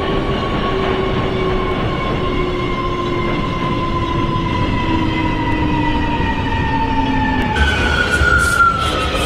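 An R179 subway train in a simulated New York A express run hums and rumbles steadily with rising and falling motor whine, a loud continuous ride with a shift in tone near the end.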